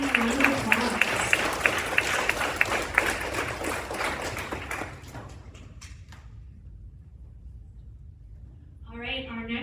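Applause at a symposium pitch competition: dense clapping from a room of people fades out over several seconds, then quiet until a speaking voice returns near the end.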